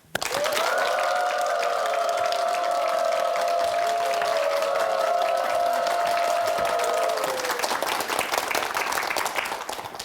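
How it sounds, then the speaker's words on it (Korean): Audience applause welcoming a lecturer at a talk, dense sustained clapping from a crowd lasting about eight seconds before tapering off, with a tonal musical or cheering layer over the first part. "큰 박수로 초대하겠습니다"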